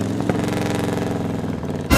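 A small motorcycle engine idles steadily with a fast, even putter, ending in a sudden louder burst.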